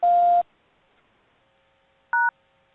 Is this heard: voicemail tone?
yes